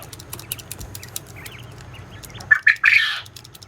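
Pet birds in a cage, including an all-white albino bird, give a few loud squawking calls near the end after faint scattered chirps, close by.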